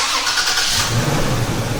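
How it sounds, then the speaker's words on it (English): A Toyota Tacoma (2016–2023) engine started by a plug-and-play remote start: a short cranking burst that catches and settles into a steady, close idle rumble, with no talk. "Our engine will start."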